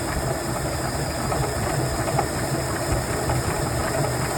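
A honey extractor centrifuge spins honey frames: a steady, even mechanical whir and hum with no talk, running continuously without change.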